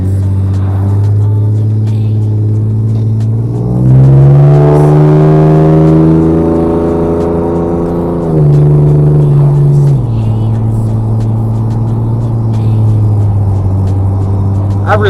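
A Pontiac truck engine with a new exhaust idles with a deep, steady, loud rumble, then revs up briefly and settles back to a low drone, close and without voices.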